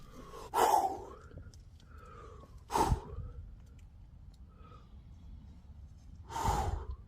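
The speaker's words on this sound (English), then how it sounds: "I just heard it breathing." Heavy breathing from an unseen creature near a forest campsite comes in three loud, rough gasping bursts with quieter breaths between, close by in the night quiet.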